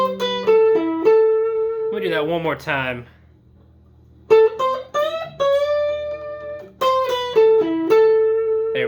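Electric guitar plays a short melodic lick with bends and sustained notes, up close, then a voice speaks briefly before the lick is played again.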